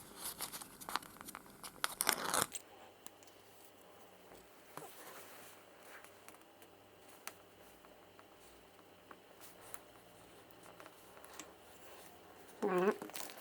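Faint crinkling, tearing and tapping as double-sided tape is applied to SpiderVanes arrow fletching up close, with louder rustling bursts at the start and end.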